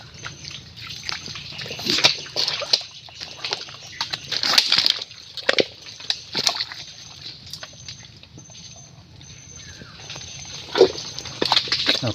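Puppies moving through shallow mangrove water during crab hunting, with soft splashes, sloshing steps and snuffling sniffs coming in irregular bursts close by, against quiet pauses.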